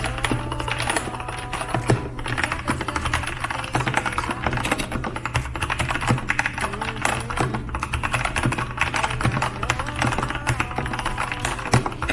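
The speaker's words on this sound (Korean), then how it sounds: "우선 이 타건을 제가 한번 쳐보도록 하겠습니다" A 55,000-won full-size mechanical keyboard with lubed switches and PBT keycaps clacks under fast, continuous typing, a dense close rattle of keystrokes with no talk.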